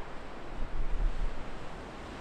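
Wind gusts across the microphone outdoors in Ireland, a broad rushing roar that swells in the middle then eases, with no voices.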